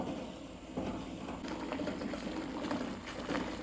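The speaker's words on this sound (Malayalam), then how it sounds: "ഇതാ മുട്ട നല്ല പോലെ തിളയ്ക്കുന്നുണ്ട്." Eggs boil in a covered pot of water, giving a soft, continuous bubbling and gurgling that swells slightly partway through and stays faint, with no voices.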